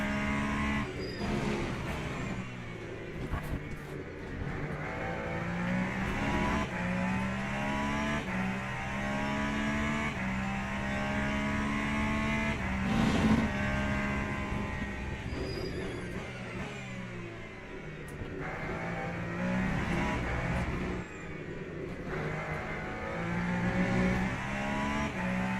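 Race car engine in the Le Mans Ultimate racing game at Imola, loud and continuous, sweeping up through the revs and dropping with gear changes, with brief tire noise, no talk.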